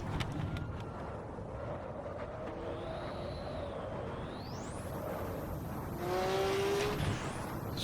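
Porsche 917/30 Spyder race car in the Assetto Corsa racing game at Silverstone, its engine droning steadily with pitch sweeping up through gear changes and a brief tyre squeal near the end, heard alone without talk.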